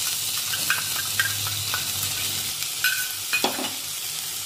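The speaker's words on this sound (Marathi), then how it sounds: "आणि मंद आचेवर हे तांदूळ हलक्या तांबूस रंगावर भाजून घेऊया।" Rice roasting in ghee over a low flame for rice kheer, a soft continuous sizzle broken by light scraping and clinks as the grains are turned with a spatula.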